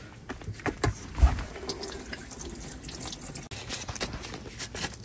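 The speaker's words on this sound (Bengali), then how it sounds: "আমি একটু বোরহানিটাকে ঢেলে নিই" Borhani, a spiced yogurt drink, poured from a container in a home kitchen, heard as a faint, steady liquid trickle with a few soft clinks near the start and low room noise throughout.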